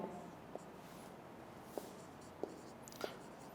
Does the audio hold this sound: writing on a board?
yes